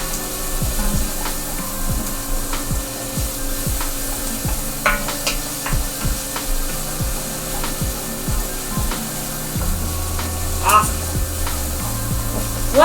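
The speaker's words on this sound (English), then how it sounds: "So saute these up for just a minute with that wooden spoon" Onions sautéing in a pan while a wooden spoon stirs them, with repeated scraping and rubbing strokes over a low, steady sizzle, close and fairly loud.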